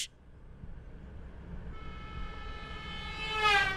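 An Indian Railways train approaches, its horn rising into a loud, drawn-out toot toward the end over a low rumble.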